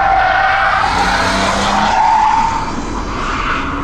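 A race car slides with tires skidding on a lap-timing track run, a loud, close, sustained screech over engine roar for several seconds; the comparison features a BMW Alpina B3 and a Mercedes-Benz AMG A45.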